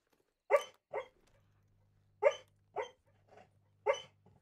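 A sleeping, dreaming dog gives short muffled woofs and whimpers in uneven pairs, close and fairly loud against a quiet room with a low hum.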